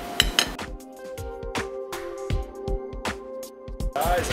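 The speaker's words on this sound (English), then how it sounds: "So I'm going to mix all this together." A grilled vegetable salad of blanched broccoli, asparagus and green beans is tossed in a bowl, with a series of sharp clinks and knocks from utensils against the dish in an uneven rhythm.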